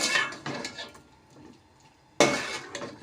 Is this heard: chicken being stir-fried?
yes